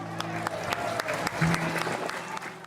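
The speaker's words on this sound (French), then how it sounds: "Sous vos applaudissements." Audience applause welcoming Mayor Raymond Collier onto the stage at a Le Vauclin song show, crowd clapping mixed with voices and a sustained musical tone underneath, with distinct claps popping through.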